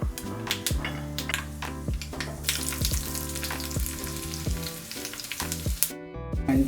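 Onions sizzle in hot oil with mustard seeds and fenugreek for a Kerala cucumber curry, a steady frying hiss laid over continuous background music, with occasional sharp clinks from the pan.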